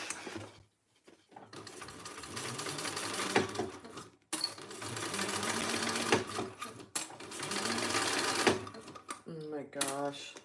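A Thor embroidery sewing machine stitches a design at a rapid, even rhythm, running close and loud in bursts separated by short pauses, with a person talking briefly near the end.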